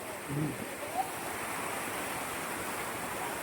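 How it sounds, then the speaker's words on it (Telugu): A small village waterfall during floodwater keeps up a soft, steady rushing wash, fairly faint and distant, with a brief voice-like sound early on. "చిన్నపాటి వాటర్ ఫాల్స్ లేకుండా ఇక్కడ కదా"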